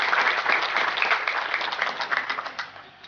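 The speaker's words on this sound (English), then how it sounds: "I request all of you to invite him with a loud applause." Loud, dense audience applause welcoming a speaker at the inaugural function of a two-day seminar, many hands clapping steadily before tapering slightly toward the end.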